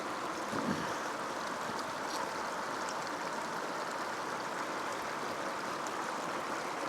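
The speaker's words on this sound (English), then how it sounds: "Let's first drain some water from the kayak front." Water drains out of the front of a kayak as a continuous close trickling splash over a steady watery wash, with no talking.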